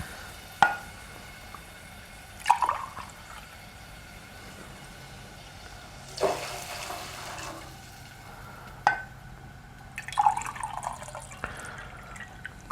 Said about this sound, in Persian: حالا بقیه آب رو اضافه میکنم به راحتی